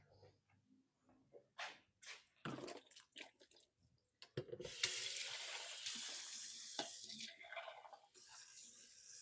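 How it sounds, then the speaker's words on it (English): Canned beans rinsed under a running kitchen tap for chicken chili: the water bursts on about halfway through as a loud, steady rushing hiss, after a run of short knocks and clatters. "make sure you rinse your beans because we don't want that starchy water in our chili"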